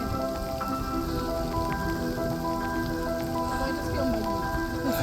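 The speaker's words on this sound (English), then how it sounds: "At least the rain's helping to cool us off a bit." Steady rain falls during a mountain canyon hike near Naramata, British Columbia, a dense continuous patter on surfaces close by, with no break over the few seconds.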